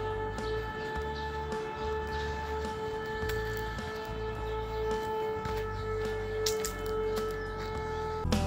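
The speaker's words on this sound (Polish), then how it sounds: "To już syreny na pożegnanie chyba." Sirens send out steady sustained tones as a farewell while a VW T4 van is around, over a constant low rumble, with no one speaking.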